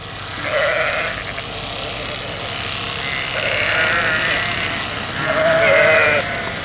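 Several sheep bleat in a busy farmyard among freshly fleeced animals awaiting shearing and market, with three drawn-out bleats over a steady murmur of the flock.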